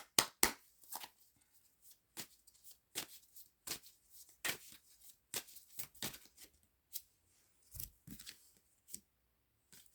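Tarot cards being handled and shuffled in a quiet room, a series of short crisp riffling snaps and slaps spaced irregularly, close and clear against near silence.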